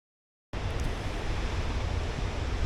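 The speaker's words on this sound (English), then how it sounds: "So I'll show you this waterfall now." The Wajul Wajul waterfall in the Daintree rainforest roars as steady, dense broadband rushing water that starts abruptly after a brief silence and continues loud and unbroken.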